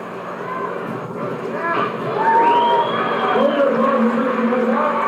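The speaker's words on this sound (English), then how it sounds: "there's the crowd. They're very happy" An outdoor crowd at a women's high dive event cheers and murmurs in a sustained, rising swell after the dive, with a tonal whistle or call and nearby voices mixed in.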